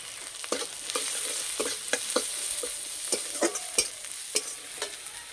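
Onion, tomato and ground turmeric, chilli and cumin with a little sugar fry in a pan, a steady hiss broken by frequent sharp scrapes and clicks of stirring.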